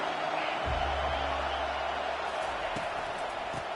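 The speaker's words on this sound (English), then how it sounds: "This crowd bringing an ear-splitting welcome to their visitors." A big stadium crowd at an American football game roars loudly and steadily in a dense wall of cheering that holds for the whole few seconds, with a short lower rumble near the start.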